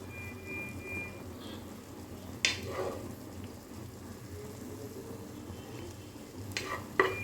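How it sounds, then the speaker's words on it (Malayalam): Quiet sizzling of cabbage stir-frying in a pan for fried rice, with a few sharp clinks of a utensil scraping against the metal. "നന്നായിട്ട് ഇളക്കി യോജിപ്പിച്ച്, ക്യാബേജ് അത്ര നന്നായിട്ട് വേവണ്ട"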